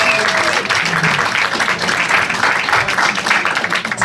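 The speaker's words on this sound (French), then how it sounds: "bravo, on peut les applaudir." A comedy club audience bursts into dense, loud applause that runs steadily throughout, with scattered voices mixed into the crowd noise.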